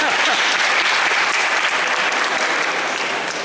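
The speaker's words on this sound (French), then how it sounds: "On peut l'applaudir." A church congregation bursts into loud, dense applause during a Sunday Mass homily, a continuous roar of many hands clapping that holds steady throughout with no talking over it.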